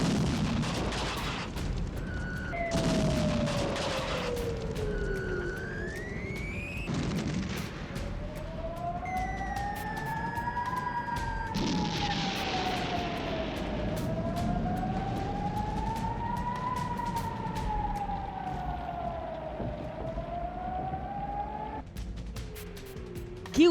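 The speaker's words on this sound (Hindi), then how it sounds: "हर तरफ एयर रेड सायरन की आवाज" Air raid sirens wail across the distance in wartime Ukraine, several rising and falling tones overlapping in long slow sweeps, with low rumbling underneath.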